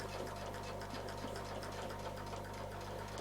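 Sewing machine stitching curves in a steady, continuous mechanical hum and rapid rhythmic clatter, fairly quiet and alone.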